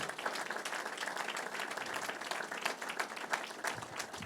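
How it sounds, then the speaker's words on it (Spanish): Sustained applause from a church congregation, dense and even throughout, with claps blending into a continuous wash at moderate distance. "Un aplauso al Señor."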